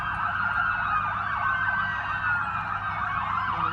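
A police siren wails steadily and loudly near KFC on Airport Road in Abu Dhabi after a blast, its rising and falling tone continuous over a low street rumble with no talking.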